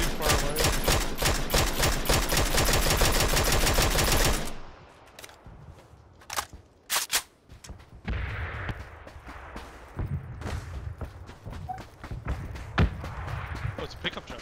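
Sustained rapid automatic gunfire from a PUBG match fills the first few seconds, loud and dense, then gives way to sparse, more distant single shots and thuds over quieter ambience.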